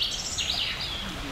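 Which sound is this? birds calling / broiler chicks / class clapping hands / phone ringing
birds calling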